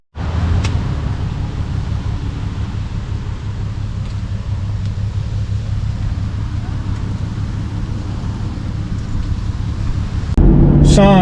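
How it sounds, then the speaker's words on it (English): A 2008 Shelby GT500 KR heard from inside during a ride-along, its engine a steady, heavy low rumble that holds for about ten seconds before a brief louder burst at the end. "I do appreciate you giving me a ride in your GT500 KR this afternoon"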